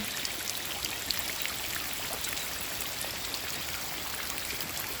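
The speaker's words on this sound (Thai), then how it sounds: "เสียงฝน" Steady rain falls on flooded rice fields in Khon Kaen, Thailand, with a dense hiss, scattered drops pattering on a surface nearby; no voices, just the continuous wash of water.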